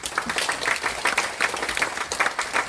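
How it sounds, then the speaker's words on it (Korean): An audience at a meeting with a provincial governor bursts into sustained applause, dense overlapping clapping that swells and ripples continuously without any voices on top. "자, 박수 한번 주십시오."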